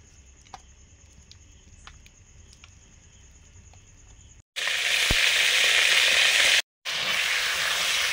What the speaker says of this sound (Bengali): বেগুন ভাজাটা করছি